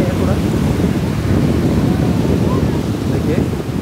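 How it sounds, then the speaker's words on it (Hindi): Strong, fast-flowing water rushes in a dense, steady roar with no break, loud and close throughout, its low rumble mixed with some wind-like buffeting. "तो पानी का फोर्स बहुत ज़्यादा आ रहा है"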